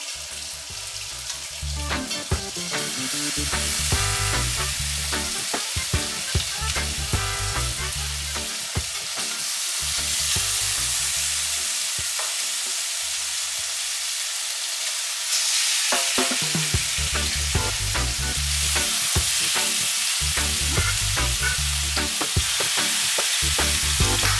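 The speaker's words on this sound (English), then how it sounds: "Then you're gonna start putting in your chicken." Loud, continuous sizzling of chicken searing in hot oil for Jamaican brown stew chicken, with crackles and pops throughout and brief dips where the frying quiets before surging again.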